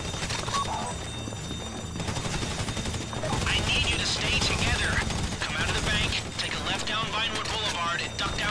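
Gunshots ring out during a heist mission in the video game GTA V, with rapid bursts of gunfire mixed into dense game sound while players talk over it.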